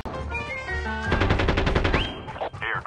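Rapid automatic gunfire from a shooter video game rattles in a dense, loud burst lasting over a second, mixed with game sound effects and tones.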